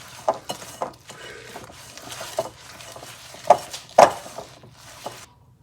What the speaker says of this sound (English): We just want to mix it in until it's just combined in a nice little